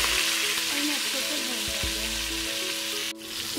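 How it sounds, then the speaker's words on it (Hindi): Tomatoes and green chillies frying with spices in a pan for chicken yakhni pulao make a loud, steady sizzle, with a few scraping stirs and a brief dip near the end. "टमाटर और सब्ज मिर्ची अच्छे से मिक्स हो चुकी हैं, भूनी हैं।"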